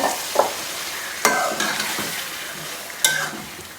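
Marinated chicken tipped into a hot pan for achaar gosht sizzles and fries loudly and steadily, with sharp scraping and stirring clatters from a spoon against the pan and no voices.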